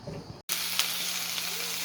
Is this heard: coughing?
no